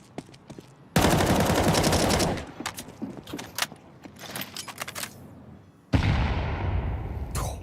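Two bursts of automatic gunfire in a Counter-Strike match: a loud rapid burst of about a second, scattered single shots and clicks, then another sustained loud burst near the end.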